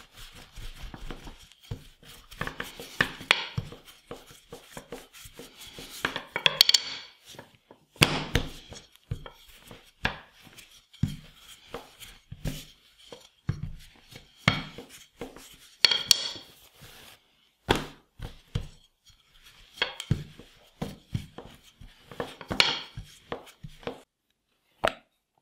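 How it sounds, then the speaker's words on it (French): Vegan shortcrust pastry dough being rolled out on a floured worktop, irregular knocks, thumps and clatters from the rolling pin and surface, close and intermittent with quiet gaps between bursts. "Je vais enfariner mon plan de travail et étendre ma pâte."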